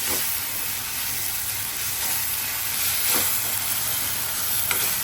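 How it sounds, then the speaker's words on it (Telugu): Masala paste for a broccoli and potato curry fries in a pan over medium flame with a loud, continuous close-up sizzle and hiss, plus occasional faint scraping as it is stirred. "పచ్చి వాసన పోయే వరకు వేపుకోవాలండి."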